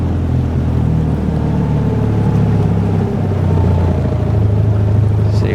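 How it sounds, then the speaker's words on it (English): An outboard motor drones steadily, loud and close, a continuous low rumble with no pauses, on a boat out muskrat trapping in spring. "I don't know if you hear my voice over the sound of the outboard here or not"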